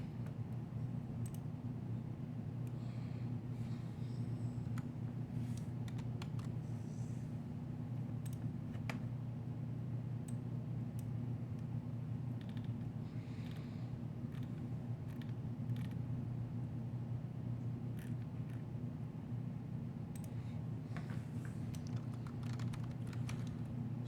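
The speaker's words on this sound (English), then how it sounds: "I tried it the Mirza way by typing SU and then giving a space and type Mirza." Quiet keystrokes tap out a Linux command on a computer keyboard, scattered light clicks in irregular bursts over a steady low hum.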